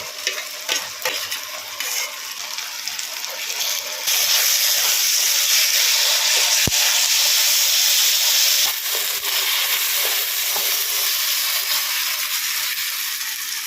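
A splash of water from rinsing the spice grinder goes into mutton curry frying with ground ginger, garlic, cumin, coriander and red chilli paste, setting off a loud burst of steamy hissing and sizzling that holds steady alongside stirring.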